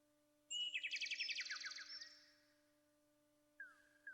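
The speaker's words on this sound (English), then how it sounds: "Whereas here, you just hear the chirping of birds." Chirping birds in the King's Quest II video game: a bright, rapid trill of warbling tweets that fades out, followed after a pause by a short clear chirp, clean and isolated with no talking.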